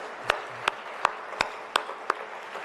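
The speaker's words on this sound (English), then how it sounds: "Applaud from them all." Six sharp, evenly spaced hand claps ring out one after another, fairly close, over a quiet background.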